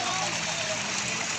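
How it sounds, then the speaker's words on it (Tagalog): Water rushes continuously at a waterfall at Sunshine Trece in Cavite City, a dense, loud, steady roar filling the whole moment, with voices faintly present beneath it. "Biglang ragasay ang tubig niyan."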